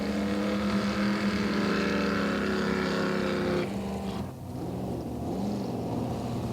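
Racing jetboat roars away from the start on the Payette River, a loud, dense engine drone that shifts pitch as it pulls off, steady and fairly close with no talk.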